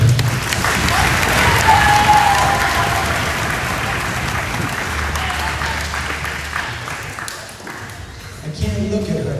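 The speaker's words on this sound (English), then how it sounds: "Round of applause for parents." Sustained applause from a concert audience honoring parents, dense steady clapping that fills the room at close range, gradually easing toward the end with some crowd murmur underneath.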